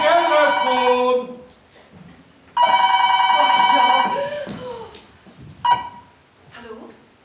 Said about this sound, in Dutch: Het is de telefoon.